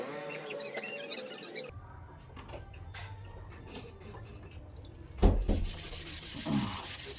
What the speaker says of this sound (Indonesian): Terus gosokkan amplas pada seluruh permukaan bilah, agar bilah rata dan halus.